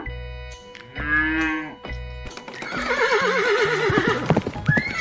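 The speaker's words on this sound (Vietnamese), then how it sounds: "Con ngựa." A horse neighs loudly in a long, wavering whinny, preceded by shorter snorting and whinnying calls, all clear and close with no talk.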